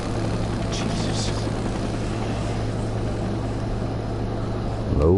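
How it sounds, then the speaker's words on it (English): A low-flying helicopter in the video game Days Gone gives a steady, droning rotor and engine hum throughout, with a brief louder swell right at the end. "Low flying chopper."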